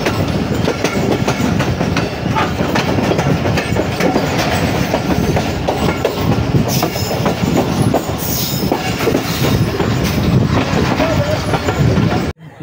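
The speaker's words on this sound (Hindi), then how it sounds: "इस वक्त ट्रेन हमारी लूप लाइन पर डाइवर्ट हो रही है।" The 10 Down Allama Iqbal Express diverting onto a loop line, heard as loud, continuous rumbling with rhythmic clickety-clack of wheels over the points and occasional squealing from the wheels, close up throughout.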